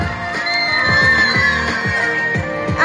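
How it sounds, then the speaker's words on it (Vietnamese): A school campsite fashion show audience of students roars with cheers, whoops and children's shouts, loud and sustained throughout with a rhythmic beat pulsing underneath. "Xin các bạn cho một tràng vỗ tay thật lớn để chào đón."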